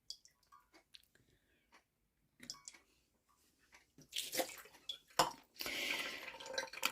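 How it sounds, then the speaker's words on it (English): Water poured into the compost of a potted orchid: faint scattered drips and trickles at first, then a louder, steady splashing pour near the end, close by and with no talking. "I'm just going to water that in again."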